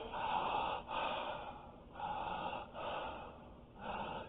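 A man imitates the breathing pattern of a dying person: a series of four or five drawn-out, raspy gasping breaths in a steady rhythm, each separated by a short pause, heard alone and close.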